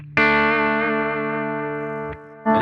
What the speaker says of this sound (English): So this is just the clean.